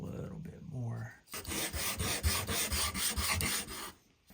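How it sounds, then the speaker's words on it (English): Rough rasping strokes of model torso ribs being sanded flush on a sanding board, a quick run of rhythmic back-and-forth rubs, close and fairly loud, after a brief moment of quiet talk. "I wanted to sand this one down a little bit more"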